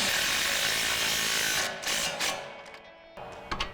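An impact wrench with an 18mm socket drives down the bottom strut bolt on a 2005-2010 Mustang. A dense, loud mechanical rattle runs for about a second and a half, then gives way to shorter clattering bursts and a few quick hits.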